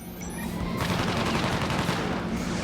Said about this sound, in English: Sung's ult is an airstrike.